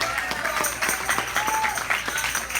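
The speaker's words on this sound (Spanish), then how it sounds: "Dale un fuerte aplauso a él." Congregation applause during an evangelical church service, a steady wash of clapping with scattered sharp claps and a few overlapping voices, heard fairly close and continuous throughout.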